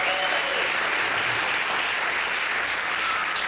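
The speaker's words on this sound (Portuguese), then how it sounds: "Aplauda bem forte ao Senhor." A church congregation applauds loudly in praise, a thick continuous roar of clapping from many hands, close and sustained from start to finish with no pause or talk.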